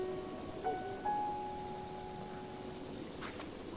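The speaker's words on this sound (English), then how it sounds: "I don't think it's gonna stop raining anytime soon." Steady rain patters through an outdoor scene in the Nintendo Switch game Zelda: Breath of the Wild. The soft, even hiss sits beneath a few sustained game tones and brief chimes, with no talking.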